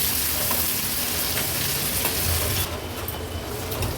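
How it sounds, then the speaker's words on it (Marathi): Finely chopped onion cooks in a pan over a low gas flame, giving a steady dense sizzle and frying crackle that runs the whole time and eases slightly near the end. "अगदी एक छोटासाच कांदा आपण बारीक चिरून घेतला आहे गॅसची फ्लेम लो करते आणि कांदा व्यवस्थित शिजवून घ्यायचा आहे"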